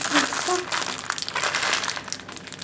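Crinkling plastic packaging being handled and pulled open up close, with a voice speaking briefly over it.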